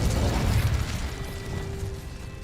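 Incendio fire spell cast in the video game Hogwarts Legacy, a roaring fiery burst with a low rumble that fades into a thinner crackle and a faint tonal hum.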